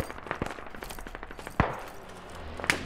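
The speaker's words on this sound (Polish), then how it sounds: "O, ktoś do mnie strzela." Gunfire in the tactical shooter game Squad: sharp single shots and short bursts crack out at irregular intervals over a steady low background, with a couple of loud close reports standing out.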